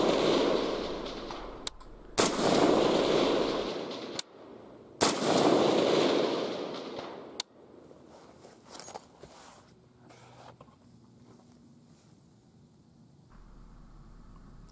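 Rifle shots at an outdoor shooting range: two loud, sharp reports a few seconds apart, each with a long fading tail, followed by quieter handling and rustling nearby.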